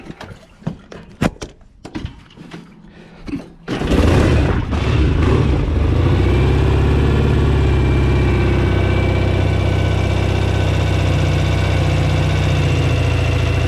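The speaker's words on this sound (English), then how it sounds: "one big kick and hopefully she'll start" A John Player Norton 850 motorcycle is kick-started cold. Several sharp knocks and thumps come first, then the engine catches and settles into a loud, steady, close idle.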